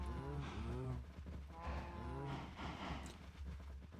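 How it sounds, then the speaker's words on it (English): Several cows moo in Minecraft, drawn-out lowing calls repeating in a rough rhythm, close and fairly loud over a steady low game hum. "Cows, I kind of just have a bit of a cow breeding program going on here for leather."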